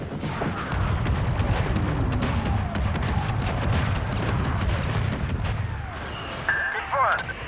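Orbital barrage strikes pound the battlefield in Star Wars Battlefront 2, a dense run of heavy booms and rumbling blasts layered over constant gunfire, with game voice callouts mixed in near the end.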